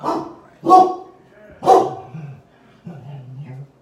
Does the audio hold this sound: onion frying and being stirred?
no